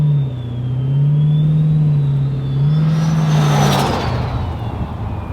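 A turbocharged V8 in a 1984 XE Falcon wagon revs loudly nearby, a deep steady drone that swells into a rising surge with a whistling turbo whine riding above, then settles back.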